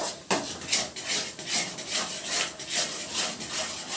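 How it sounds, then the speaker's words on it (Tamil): Halwa is stirred in a pan to keep it from sticking. A spoon makes rhythmic, close scraping strokes against the bottom about twice a second, loud and continuous, with no voices. "நம்ம அடி பிடிக்காம கிளறணும்"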